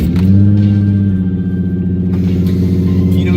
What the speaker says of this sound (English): Cold start inside the car.